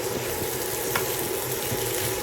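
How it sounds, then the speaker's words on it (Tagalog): Ground pork giniling sizzling steadily in a hot pan while being stirred, a loud continuous close frying hiss with faint scraping of the spoon and no talking. "Okay na yon, haluin natin."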